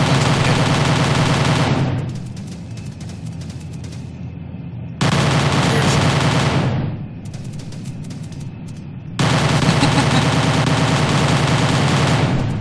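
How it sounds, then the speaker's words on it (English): Sustained bursts of aircraft gunfire in Kerbal Space Program, three long loud rattling volleys separated by brief quieter lulls, with no talking. "Off my bullets go."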